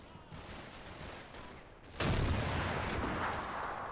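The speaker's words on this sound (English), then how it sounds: "No, wait, that's the AT guns firing." Anti-tank guns firing in a WWII video game during a British last stand, a heavy boom that hits at once and then rolls on as a dense, sustained rumble over a background of distant battle noise.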